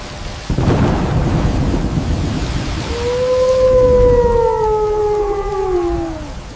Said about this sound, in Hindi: बहुत जोर से बारिश हो रही है